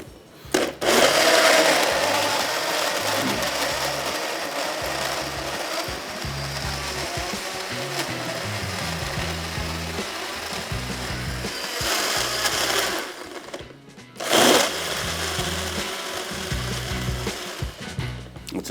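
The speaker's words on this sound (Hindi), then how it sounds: "लेकिन साथ में इसको आप ब्लेंड भी कर सकते हैं जिस तरह हम करने वाले हैं।" A kitchen blender whirs steadily as it blends mango colada, its motor droning loudly and continuously, briefly cutting out and restarting near the end.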